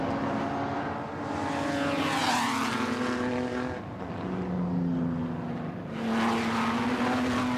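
Racing cars at the Goodwood SpeedWeek race meeting roar through a chicane nose to tail, engine notes rising and falling as they brake and accelerate past, loud and close, then a second surge of engine noise follows.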